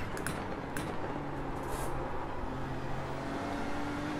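A GT3 race car's engine in the sim game iRacing at Circuit Zolder, a steady, loud drone rising in pitch as it accelerates, heard alone without talk.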